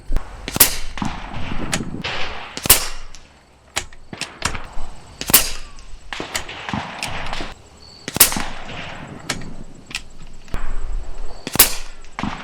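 Umarex Gauntlet 2 .25 caliber air rifle firing slugs at 75 yards outdoors, with five sharp, loud shots spaced a few seconds apart over steady ambient outdoor noise and small clicks of handling.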